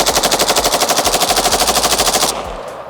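An FB Radom Beryl rifle fires long rapid automatic bursts, a steady loud stream of closely spaced shots lasting over two seconds before cutting off into echoing decay.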